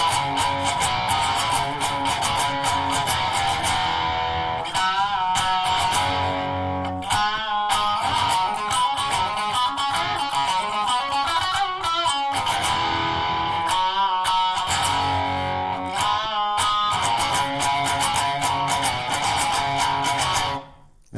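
A distorted electric guitar plays the riff from a song, loud and up close, with chugging chords broken by short, sharp stops, ending abruptly.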